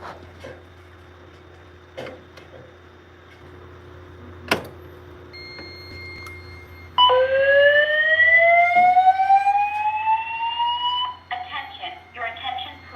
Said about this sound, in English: The fire alarm in the building has been activated.